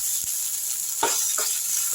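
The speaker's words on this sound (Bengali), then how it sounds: "জিরেটা যখন একটু লাল লাল করে ভাজা হয়েছে এর মধ্যে দিয়ে দিলাম আদা আর কাঁচা লঙ্কা" Oil sizzles steadily with a bright hiss as crushed ginger and green chilies fry with reddened cumin, broken by a few short stirring scrapes.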